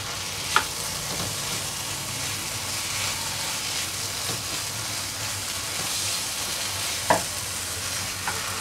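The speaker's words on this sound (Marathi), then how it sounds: "आता त्यावेळेला मी याच्यात बटाटा घालणार आहे" Potatoes frying in a pan for a drumstick and potato curry: a steady, even sizzle close by, broken by a couple of sharp clicks of a utensil against the pan.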